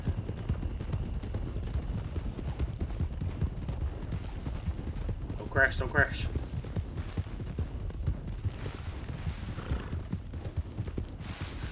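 Horse hooves gallop in the video game Red Dead Redemption 2, making a continuous fast clip-clop beneath a brief whinny, with someone talking over it.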